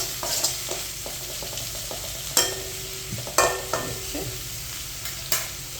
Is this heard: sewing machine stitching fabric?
no